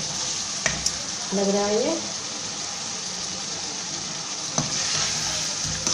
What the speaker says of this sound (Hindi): ये देखें, ये भुनने पे आ गया है, हम इसे भुनेंगे